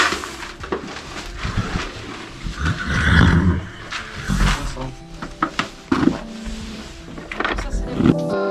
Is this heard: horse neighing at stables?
yes